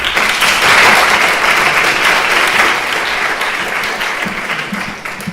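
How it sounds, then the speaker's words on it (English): A lecture audience gives a warm, full round of applause to welcome the speaker, dense steady clapping that swells early and eases slightly toward the end. "Now let's welcome Anders Persson with a warm applause."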